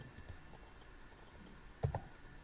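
A few quiet keystrokes tap on a computer keyboard with an unfamiliar, irregular layout, a faint isolated click early and a short cluster of clicks near the end against a low room hiss.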